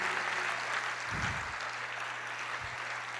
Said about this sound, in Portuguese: Você pode aplaudir o Senhor e dizer: eu creio.